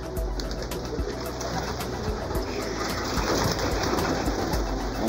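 Pigeons cooing close by in repeated soft, throaty calls over a steady background wash, with faint sounds of movement throughout.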